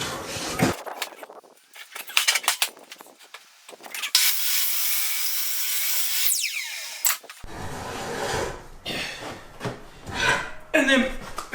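A hardwood post for outdoor steps is trimmed with a saw for a handrail. Short rasping strokes build to a sustained, loud stretch of cutting, followed by more scattered scraping and handling noises nearby.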